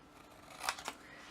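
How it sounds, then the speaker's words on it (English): Two quick, close snips of scissors cut through a thin embossed copper sheet, the second following shortly after the first, in a quiet room. "All we need to do is cut once in down each side"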